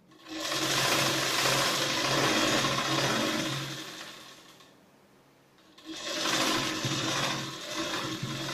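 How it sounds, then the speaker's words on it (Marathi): A sewing machine stitches the sides of a katori blouse lining in a steady, fast mechanical whir. It runs for several seconds, stops briefly, then starts again, close and moderately loud. "साईडला ह्याच्या दोन्ही बाजूला शिलाया मारून घेते मी आधी."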